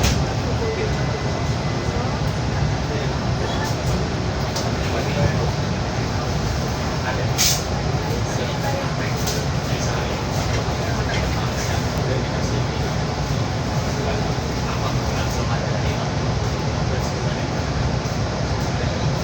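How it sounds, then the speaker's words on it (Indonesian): The Panoramic Turangga train pulls out of Surabaya Gubeng station, its interior rumble a steady, dense roar that runs unbroken throughout while a voice talks over it. "kereta api yang saya naiki yaitu kereta api Panoramik Turangga sudah diizinkan berangkat dari stasiun Surabaya Gubeng"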